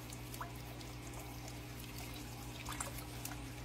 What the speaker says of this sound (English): You can see the water is dripping down all the walls and hitting all the baskets